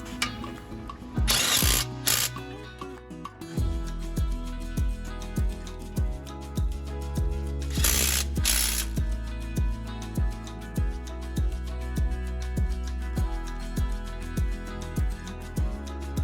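Ratchet wrench tightening front strut bolts on a 2011-2014 Hyundai Sonata, repeated clicking ratchet strokes in a steady rhythm, close and clear, with a couple of louder metallic clanks in between.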